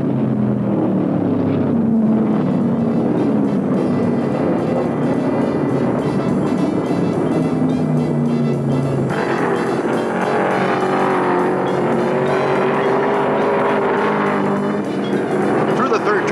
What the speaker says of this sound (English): Peddie has his Mopar screaming.